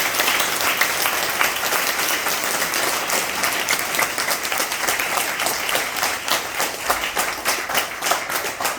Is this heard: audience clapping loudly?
yes